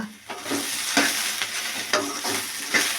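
Okra fries in a pan with salt and turmeric powder, a steady close sizzle broken every half second or so by the scrape of a stirring spoon, with no talking.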